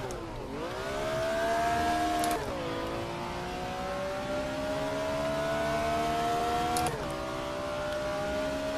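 A BMW race car engine in the racing game Race 07, droning loud and steady with a rising whine as it accelerates, broken by two quick gear-shift dips and continuing to build in pitch after each change.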